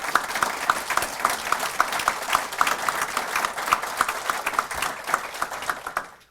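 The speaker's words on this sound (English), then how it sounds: "Please give a round of applause for the command staff here and the chief." Audience applause for the police command staff and chief at a police academy graduation ceremony, a steady, full round of many hands clapping that sustains for several seconds before tapering off at the end.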